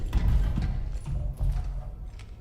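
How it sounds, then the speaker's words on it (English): Footsteps in the ROUTINE sci-fi horror game, heavy dull thuds in an uneven series, close and fairly loud, with no one talking. "Thought I heard footsteps."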